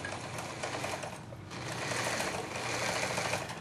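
A Baby Lock serger sewing machine runs steadily while surging the edges of fabric flags, giving a fast, continuous mechanical whir with a rapid stitching chatter. It dips briefly partway through, then carries on close and clear without speech.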